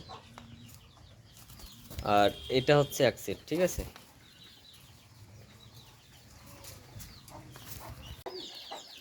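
A cluster of Teddy highflyer pigeons gives a short run of throaty calls close by, a brief burst of repeated notes, while someone talks quietly over the softer moments.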